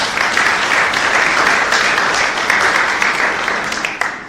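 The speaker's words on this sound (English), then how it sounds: "Can we give them a round of applause?" Audience applause for poster presenters at an agri-nutrition conference, loud sustained clapping from a room full of people that tapers slightly at the end.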